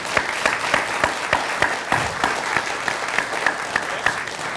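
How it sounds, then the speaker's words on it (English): An audience at an astronomy club's monthly meeting gives sustained applause, steady, fairly close clapping with scattered sharp individual claps throughout. "I think you deserve a very big round of applause"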